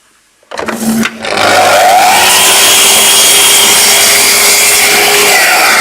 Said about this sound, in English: over to the bench, and we'll just dock that bit off